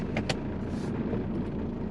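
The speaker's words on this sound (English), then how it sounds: "Car coming." A car passes on the road near a compound-turbo Subaru being logged for boost issues, a steady broadband rumble of traffic with brief higher hiss bursts early on, no talk.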